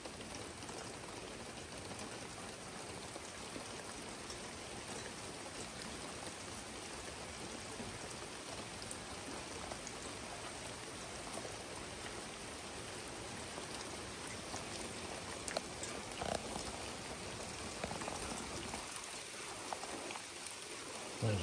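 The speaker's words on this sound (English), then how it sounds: "Here comes the heavier rain." Heavy rain pours steadily during a September thunderstorm, a dense continuous hiss and patter of falling water that holds loud and even throughout, swelling slightly toward the end, with no talk.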